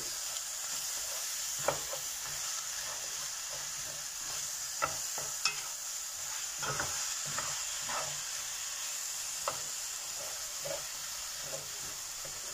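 Fish sauce for boiled fish simmering in a pot, a quiet, steady sizzling hiss broken by scattered soft clinks and bubbling pops, heard close and faint without talk.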